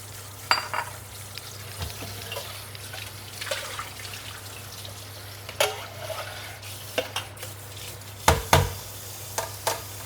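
Pork trotters cooking in a pan with Huadiao wine: steady sizzling and bubbling with repeated scraping stirs and clinks of a utensil against the pan, close and continuous, without talk.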